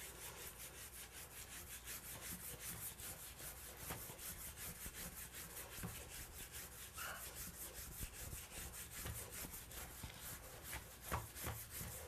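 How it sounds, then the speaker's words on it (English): Scrubbing brush or pad rubbing soap scum off bathtub walls, quiet rhythmic back-and-forth strokes repeating steadily at close range with no talking. "You're scrubbing the soap scum off the walls of the tub."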